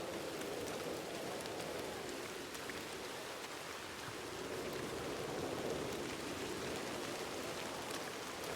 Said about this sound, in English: I wish it weren't so rainy.